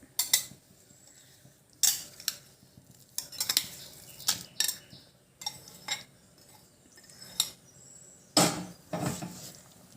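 Intestine curry being mixed with ground spice paste in a metal pot, with repeated spoon scrapes and clinks in irregular bursts, close and fairly loud, with no talking.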